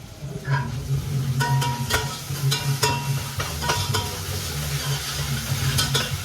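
Chicken with onion and garlic paste sizzles steadily in a frying pan for macaroni chicken biryani, while a spatula stirs with repeated scraping clicks against the metal.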